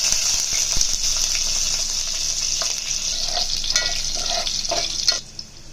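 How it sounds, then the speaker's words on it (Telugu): Chopped green chillies hit hot oil with seasoning seeds for an okra tamarind curry, giving a loud, steady close sizzle with faint stirring ticks that cuts off near the end. "ముందుగా కట్ చేసి పెట్టుకున్న పచ్చిమిర్చిని యాడ్ చేసుకుంటున్నాను"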